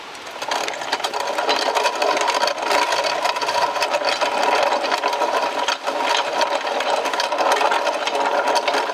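Vintage Stover grinder set for a coarse grind, running continuously as an auger feeds corn between its plates, producing a steady, loud mechanical grinding rattle throughout with no talk.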